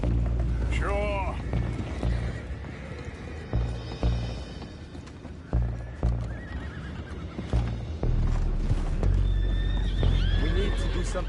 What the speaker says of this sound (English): we'll find out about those horses down below